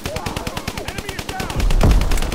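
Rapid bursts of automatic gunfire in Call of Duty: WWII during a Domination match on the Shipment map, crackling continuously up close and ending in a heavier, booming blast.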